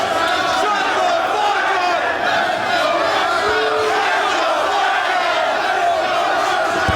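Wrestling crowd at an ROH Supercard of Honor event in Houston cheering and chanting for Alex Kozlov and Bryan Danielson, a dense, steady roar of many voices with rhythmic chant-like shouts throughout.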